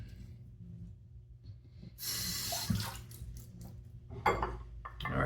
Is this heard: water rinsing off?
yes